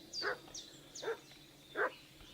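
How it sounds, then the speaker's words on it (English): Dog barking in the medieval village world of the game Kingdom Come: Deliverance 2, three separate sharp barks spaced roughly evenly apart, moderately close and clear over a quiet background hum. "What's that dog making such a fuss about?"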